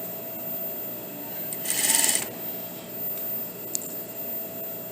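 A sewing machine stitching a flat collar and neckline into a bodice gives a short whir of about half a second, close and moderately loud, over a quiet background with a steady hum and no talk.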